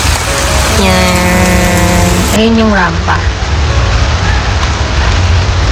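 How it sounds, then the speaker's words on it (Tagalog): Heavy rain pours in Baguio near Burnham Park, heard from shelter at a police station as a loud, dense, steady hiss, with people talking over it and a passing vehicle tone. "Ang lakas ng ulan."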